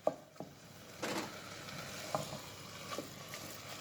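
Ground beef for a spaghetti bolognese sizzles and fries in a pan while being broken apart, with a steady crackle and a few louder scraping knocks of the utensil against the pan, close and fairly quiet.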